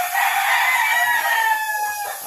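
Chickens, including an older hen, cluck and squawk together in a dense, continuous chorus on a farm, close and fairly loud, with no talking.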